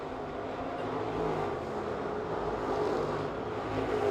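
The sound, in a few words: 604 Late Model race cars racing on track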